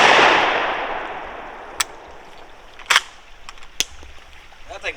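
An old Stevens .410 shotgun, unfired for 50 to 60 years, fires one loud close shot whose blast decays over a couple of seconds, followed by sharp mechanical clicks and clacks of handling.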